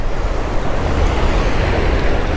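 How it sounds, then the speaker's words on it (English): Wind and waves roar at the mouth of South West River at Hanson Bay, South Australia, on a rising tide, making a loud, dense, continuous rush with wind buffeting the microphone. "So the tide's on the rise, the wind's picking up,"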